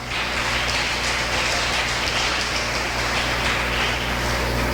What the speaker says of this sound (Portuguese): diga amém e aplauda o Senhor nessa noite